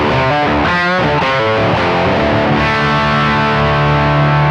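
Electric guitar through a Fuel Injector overdrive pedal, drive set to about noon, plays a few gritty chords and notes, then rings out in a sustained, saturated chord.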